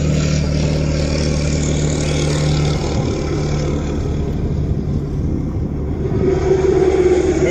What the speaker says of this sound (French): On attend juste le passage du camion.